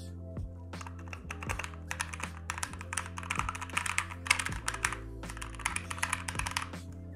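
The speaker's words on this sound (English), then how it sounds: "Okay, so that noise isn't for everybody. Not everyone wants mechanical keyboards." Rapid clacky keystrokes on a mechanical keyboard, continuous bursts of typing close up with no talking.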